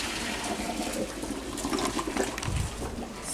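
Saved pasta water pours into a pot of bolognese in a steady, splashy rush lasting a few seconds, close and fairly loud, with no voices.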